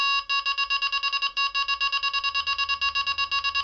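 Rapid, evenly spaced electronic beeps from a Delkim Txi-D fishing bite alarm, loud and close, repeating continuously with a brief gap near the start.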